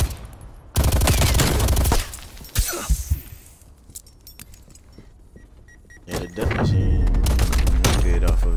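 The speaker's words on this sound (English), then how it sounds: "you would never use a death machine in the lobby like this" The Death Machine scorestreak in Call of Duty Black Ops Cold War unleashes two loud, rapid-fire bursts of heavy gunfire separated by a quieter lull, with some talk in the background.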